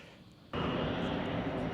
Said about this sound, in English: that's jet number 2 taking off for the morning.